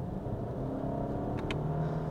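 A Toyota Camry engine in fifth gear revs after paddle-shift downshifts, giving a steady, close, continuous rumble inside the car with no talk.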